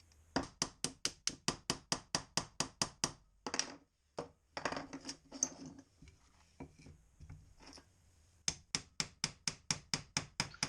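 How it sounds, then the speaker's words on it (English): Sharp, evenly spaced taps driving a pin into a BSA Scorpion air pistol during reassembly, arriving in quick rhythmic runs of strikes that are close and crisp, separated by a few pauses and softer handling noises. "when we're finally tapping this pin through, we've got to get it in the right position"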